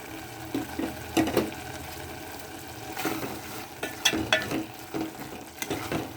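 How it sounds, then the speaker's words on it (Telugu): Hot tempering poured into drumstick leaf dal sizzles briefly, followed by spoon scrapes and stirring knocks against the pot, close and moderately loud. "మనం తాలింపు పెట్టుకున్నాం కదా, ఇది ఇందులో వేసుకుంటున్నాం."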